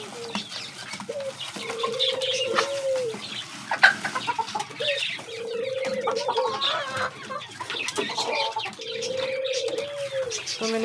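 White doves being fed grain coo in repeated soft, throaty calls, several close phrases in a loose rhythm, along with scattered clucking and rustling.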